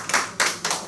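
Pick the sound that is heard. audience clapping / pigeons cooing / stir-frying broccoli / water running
audience clapping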